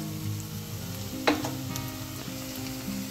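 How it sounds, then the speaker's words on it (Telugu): Ginger garlic paste fries in oil with dry prawns, a continuous close sizzle with a brief scrape of a stirring spoon partway through. "అల్లం వెల్లుల్లి పేస్ట్ పచ్చి వాసన పోయేలాగా కొంచెం వేయించుకుంటే బాగుంటుంది"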